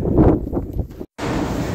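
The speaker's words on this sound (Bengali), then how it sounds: "হাওয়া চলছে" Wind blowing across the high, open ground at Hanle in Ladakh makes a steady, breathy rumble that buffets the microphone. It cuts out briefly midway, then resumes at the same level.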